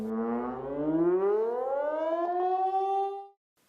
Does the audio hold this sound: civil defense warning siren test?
yes